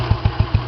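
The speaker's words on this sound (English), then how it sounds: "You can hear the engine's pretty mechanically silent." A Royal Enfield 350 Bullet motorcycle engine idles with steady, evenly spaced low thumps and a mechanical rumble, close and loud, over a brief stretch.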